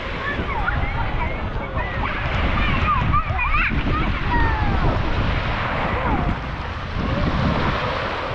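Sea waves wash and splash continuously on Botany Bay beach in Kent, UK, in a loud broadband roar, with people talking and exclaiming over the surf.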